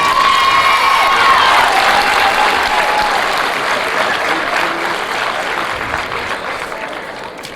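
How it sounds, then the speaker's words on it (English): A large crowd applauds loudly and continuously in a gym at a high school basketball game, with scattered cheers and a whistle-like tone, fading slightly over several seconds. "Another round of applause for this team."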